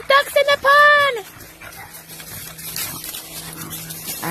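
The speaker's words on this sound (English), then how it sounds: "I heard other dogs barking." Other dogs barking somewhere near a pond on a nature trail: a short burst of loud, whining yelps and barks at the start, then only faint background noise and a low hum.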